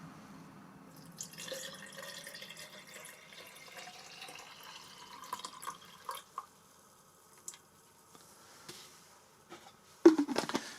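Cold water, 400 millilitres, poured and dripping into a vessel for brewing coffee, a soft trickle lasting several seconds with small drips, then a louder splash near the end.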